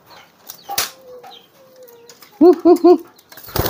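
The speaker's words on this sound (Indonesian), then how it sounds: "saya akan kasih contoh dulu merpati saya yang menggunakan jurus tenaga dalam. Ini giringnya seperti ini." Close, loud flapping of pigeon wings in brief bursts as a bird takes off, with a few soft coos and chatter nearby.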